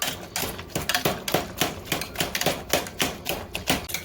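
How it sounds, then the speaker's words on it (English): Cooked cauliflower being mashed with a potato masher, a rapid series of close, squelching thumps in a steady rhythm. "I'm going to get the masher. So you want to mash, mash, mash."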